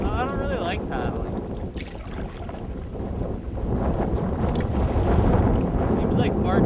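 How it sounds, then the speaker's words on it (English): Canoe paddling toward Lake Lewis and Clark, with watery splashes and hull noise under heavy wind buffeting on the microphone, fairly loud and continuous throughout. "So I'm gonna start paddling and see if we can make it actually into the lake."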